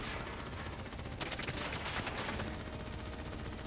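Dense, continuous automatic gunfire from the video game Black Ops 3 keeps up a rapid, loud crackle of overlapping shots with no pause.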